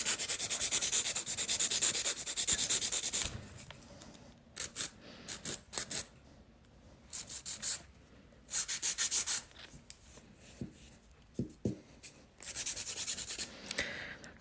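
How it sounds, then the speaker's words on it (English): A nail file works over a sculpted hard gel nail, giving bursts of close, dry rasping that start and stop in uneven strokes, some long and some short, with brief quiet gaps between them. "when I'm filing, I'm leaving the top for last"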